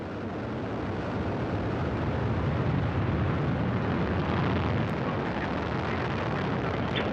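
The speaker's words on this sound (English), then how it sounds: "Engines at maximum thrust. The turbo pumps are at flight speed, standing by. Liftoff." A Soyuz booster with four strap-on boosters and a single core stage roars at crewed liftoff toward the International Space Station. The rumble is loud, dense and continuous, and holds steady throughout.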